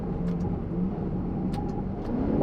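An Alfa Romeo 8C Spider's naturally aspirated 4.7-liter V8 idles and hums with a deep, steady rumble, close by, with no voices.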